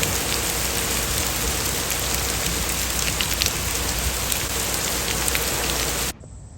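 Steady, dense rain pattering on surfaces in a wooded park, continuous and fairly loud throughout, then dropping abruptly to a quiet hiss near the end.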